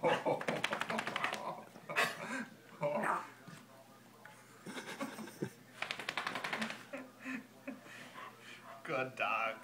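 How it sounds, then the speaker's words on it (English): Two dogs play and chew on each other, giving scrappy growls, snuffles and mouthing noises close by, with frequent bursts of rough wrestling sounds and a person talking over them. "chewing on your neck, Molly."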